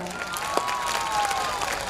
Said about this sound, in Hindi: रौनक जमेगी आपकी तालियों से इस महफिल में